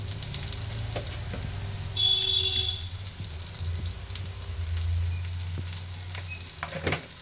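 Onions frying with turmeric in a pan over low gas, a steady close sizzle with soft crackles and occasional stirring scrapes, no voices.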